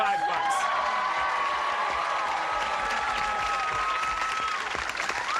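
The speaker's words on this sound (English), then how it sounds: "That is worth a goodly round of applause." A 1984 television game show studio audience applauds steadily and loudly, with scattered cheers and whoops in the dense clapping that holds throughout, while a bright tone rings beneath it.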